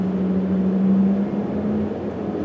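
A Porsche Taycan electric car accelerating, a steady motor whine held at a near-constant pitch over a road and cabin rumble that fades slightly, with no talking.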